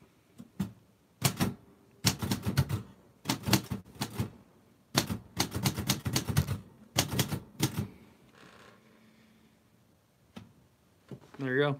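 Keys of a manual typewriter with no backspace strike in quick bursts of sharp clacks, broken by short pauses, with a brief quieter shuffle near the end and one last knock. No one speaks.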